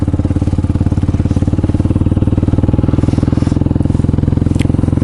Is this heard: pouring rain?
no